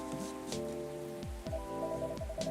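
Steady rain patter and drip ambience from the Coffee Talk video game, a constant wash under game music with sustained tones and a few sweeping musical swells.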